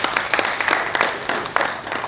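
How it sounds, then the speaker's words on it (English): Audience applause during a defence committee visit to military headquarters, a short burst of brisk, dense clapping with a few sharper individual claps standing out, loud and near, no talk. "So they deserve a round of applause again."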